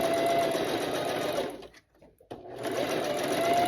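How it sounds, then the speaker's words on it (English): A sewing machine stitches a two-coloured fabric piece in a steady, close whir, stops for a brief pause, then runs again at the same even speed. "I was sewing something with two different colors here, but that'll be fine because this thread will not show"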